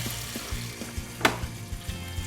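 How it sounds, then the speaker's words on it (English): Pepper rings sizzle in hot oil inside a fryer, a faint, continuous crackling fizz broken by small pops and one sharp louder spatter partway through, with no talking. "You hear that sizzle."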